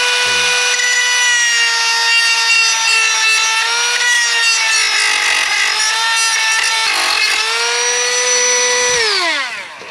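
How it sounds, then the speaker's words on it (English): A Milwaukee rotary tool fitted with a small sanding disc grinds a steering wheel on a 1996 Impala SS, giving a loud, close, steady high whine with a rasping edge that winds down at the end. "So I got my Milwaukee rotary tool with just a sanding disc on it, a little sanding wheel."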